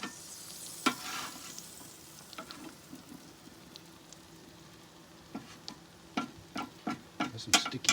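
Burger patties sizzle on a griddle with a soft, steady hiss, broken by sharp scraping clicks of a spatula sliding under and flipping them, the clicks coming more often toward the end.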